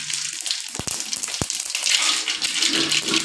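Mustard seeds splutter in hot oil in a pan on the stove as an egg gravy is started, a dense, close crackling and sizzling with a couple of sharp pops, continuous throughout.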